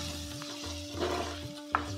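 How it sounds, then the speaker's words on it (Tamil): Curry leaves sizzling in hot oil as they are stirred in a pan, with steady frying crackle and a faint electrical hum. "கூடவே தேவையான அளவு கருவேப்பிலை சேர்த்து நல்லா வதக்கி விட்டுடலாம்."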